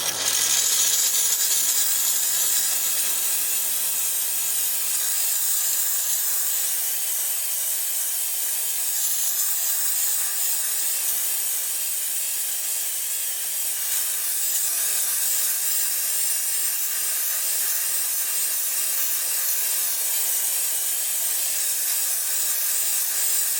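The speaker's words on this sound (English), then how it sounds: "apply the steam to the PPF and peel it back" A handheld steamer blowing steam onto paint protection film on a car, a steady loud hiss that runs continuously without a break.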